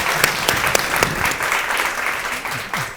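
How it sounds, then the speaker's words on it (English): An audience at a panel discussion applauds steadily, a dense patter of many hands clapping throughout. "just a round of applause for Cami and Chris."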